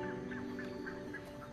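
A flock of waterfowl honks in the Pantanal wetlands at the start of the dry season. The honks repeat steadily and overlap, coming from a dense group set against a constant background hum.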